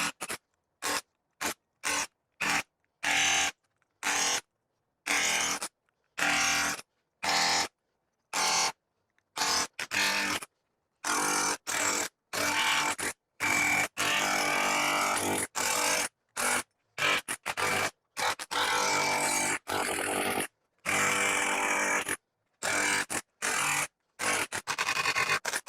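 Milwaukee M18 FUEL Striker hammer chisel driving out a bushing, hammering in many short bursts with sharp starts and stops and silent gaps between them, loud and close, with no talking.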